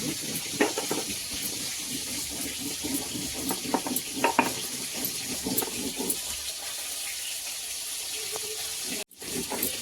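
Tilapia fish fry in oil, a constant hissing sizzle with scattered crackles and pops, holding steady before a brief dropout near the end.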